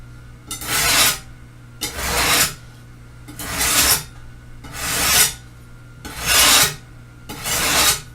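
A kitchen knife is sharpened on a budget sharpener in six steady, rasping swipes about a second apart, each one loud and close, with quiet gaps in between.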